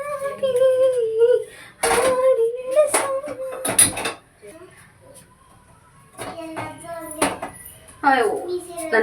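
Pots and dishes are stacked and arranged in a home kitchen, with a few sharp metallic clinks and clatters spaced out under frequent talking, including a voice that may be a child's.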